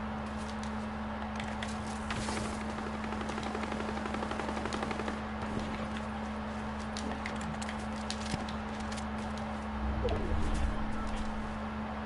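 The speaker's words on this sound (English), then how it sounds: "Someone almost sniped me." Distant gunfire in a video game, sniper shots among rapid machine-gun bursts crackling faintly and continuously behind a constant hum.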